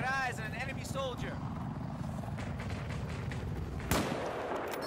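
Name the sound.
sniper rifle gunfire in the video game Battlefield 4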